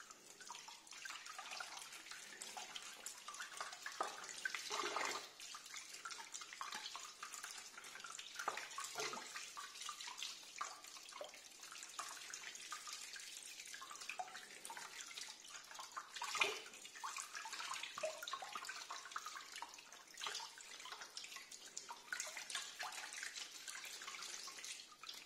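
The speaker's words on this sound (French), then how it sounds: "Un petit coup de rinçage." Steady running water rinses a hydrographic-dipped Spitro booster footrest, a continuous broadband hiss like a tap stream with brief splashy surges, close and fairly quiet, with no talking.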